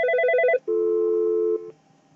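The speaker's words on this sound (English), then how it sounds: "I'm going to call extension 103, which right next to it is the Astra VoIP telephone" An Astra VoIP desk telephone rings for an incoming intercom call: a quick burst of warbling double tones, then a long steady tone, close and clear with no talking.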